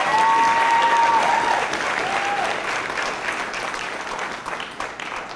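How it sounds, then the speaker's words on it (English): An audience at a graduation ceremony on Eleuthera gives a loud round of applause, many hands clapping in a full steady roar that slowly tapers off, with a few voices underneath. "That deserves a round of applause."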